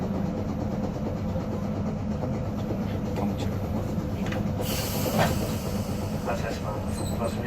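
A Nagasaki streetcar pulls away on its rails, a continuous rumbling roll with rising wheel squeal and clatter heard from inside, steady and fairly loud throughout.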